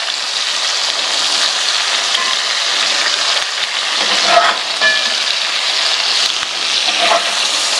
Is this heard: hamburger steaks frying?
yes